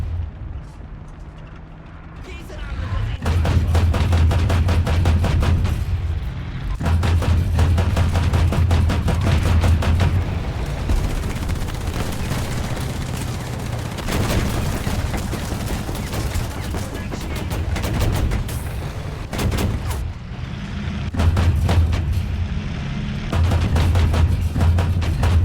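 Dense, continuous rumbling battle noise from light tanks in the game War Thunder, with booming cannon shots and rattling machine-gun bursts layered over a constant engine drone, loud throughout.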